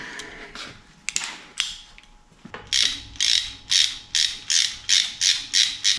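A ratchet wrench clicks through a run of about eight quick, evenly spaced strokes while working on a 1968 Mustang engine, close and crisp, preceded by scattered metallic clanks and rummaging.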